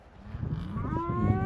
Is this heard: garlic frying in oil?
no